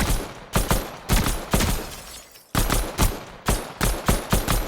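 Gunfire from a weapon in a video game tested at medium range, about a dozen loud, close shots fired in short bursts with a brief gap midway.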